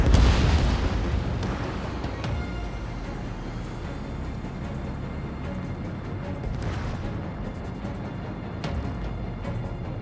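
Missile explosions tear through harbor facilities and an aircraft carrier in Ace Combat 7: Skies Unknown, a loud opening boom fading into a dense, sustained rumble with a few later bursts.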